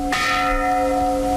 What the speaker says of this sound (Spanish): como ese incesante tañido de campanas